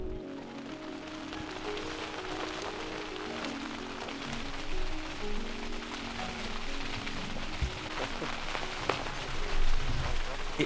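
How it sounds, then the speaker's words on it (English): Heavy rain pouring down in Iceland, a steady pattering wash of drops on surfaces with scattered sharper hits, fairly close, alongside low tonal hum and occasional background sounds. "Water is pouring down from the sky. It is raining cats and dogs."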